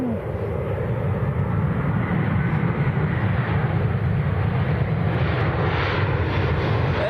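An Airbus A320 airliner at Manchester Airport produces a continuous broad engine rumble and roar, steady and fairly distant, with no talk over it.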